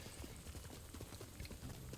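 Horse hooves clip-clop steadily at a brisk, even rhythm in a medieval Mongol-era battle video game, quiet and close with faint ambient noise underneath.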